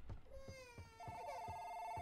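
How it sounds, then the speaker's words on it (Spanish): A telephone rings in repeated short electronic trills, faint and indoors, with a few soft thumps and a voice nearby. "Answer teléfono, a ver."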